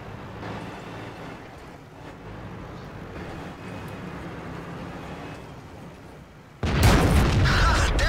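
Tank gunfire in the video game World of Tanks: a steady engine and battle rumble runs throughout, then a sudden loud blast near the end sets off a sharp, broadband crack.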